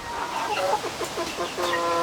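Backyard laying hens cluck and squawk in a busy, close chorus, short overlapping calls rising and falling over a steady outdoor background.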